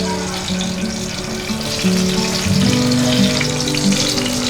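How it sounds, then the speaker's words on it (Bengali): Eggplant slices frying in oil in a pan make a loud, continuous bubbling sizzle that holds steady and swells slightly toward the end, with no voices over it. "5 মিনিট হয়ে গেছে, আশা করি এবার বেগুনগুলো ভাজা হয়ে গেছে।"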